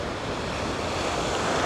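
Ocean waves break with a steady, broad roar of surf that swells slightly toward the end, with wind buffeting the microphone.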